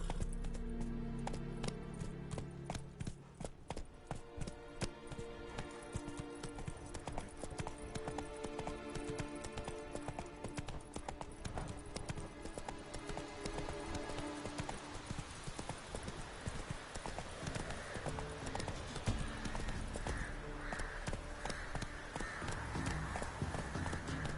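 Steady hoofbeats of a horse galloping in Witcher 3 pound on without pause for the full stretch, loud and close, layered over the game's music with an occasional whinny.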